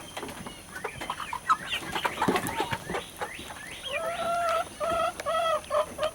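Chickens and quail eating greens make busy clucks and chirps, followed by a run of rising, repeated calls from one close bird, with scratching and pecking noise underneath.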